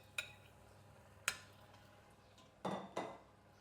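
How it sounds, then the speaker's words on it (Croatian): Pieces of chicken go into a pan onto sautéed onion for a peas, chicken and dumplings dish, heard as two sharp utensil clinks followed by two short, soft thudding bursts, all fairly quiet. "Sada ću da spustim piletinu ovdje na luk."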